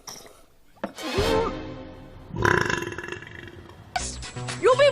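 A cartoon female character lets out a run of loud burps, a long gurgling belch followed by another and a short final one, with no speech around them.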